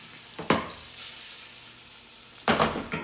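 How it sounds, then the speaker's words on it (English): A beef roast searing in a hot pan, a steady close sizzle broken by two sharper hissing bursts as the meat is moved or turned, no voices. "Let it sear on this side."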